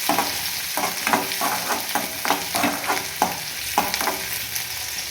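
Small onions fry in oil with mustard seeds, giving a constant bright sizzle under a string of rhythmic spoon scrapes and knocks against the pan.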